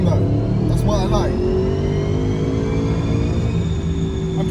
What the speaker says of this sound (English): I'm doing 120 miles an hour right now on the dyno